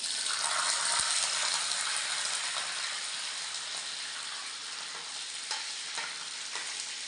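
Lemons with garlic and green chili frying in a pan, giving a loud, continuous sizzle close up, with a few clicks and scrapes of stirring breaking through, no talk.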